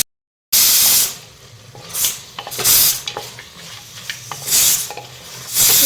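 Duck meat frying in a pan for curry, crackling and sizzling loudly up close, with bursts of hissing spatter and scraping stirs rising and falling in waves after a brief silent start.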